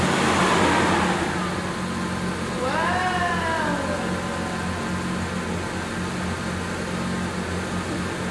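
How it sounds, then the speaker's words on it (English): A Chevrolet Camaro engine runs at a steady idle right after an oil change, with a continuous low rumble. A rising-then-falling whine sweeps through briefly early on, and faint talk can be heard in the background. "you need to start the motor to get the oil through the whole engine block"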